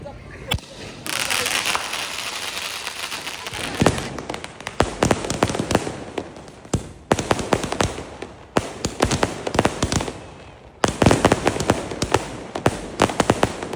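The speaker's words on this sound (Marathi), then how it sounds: "आता आम्ही फटाके फोडतो" Rapid crackling firecrackers burst in dense, irregular volleys of sharp pops, loud and close, with brief lulls between strings.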